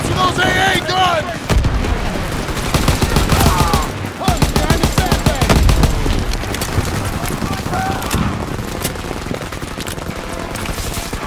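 Suppressing gunfire in a Call of Duty WWII battle, dense bursts of rifle and machine-gun fire with heavy booms, continuous and loud, with shouted commands over it.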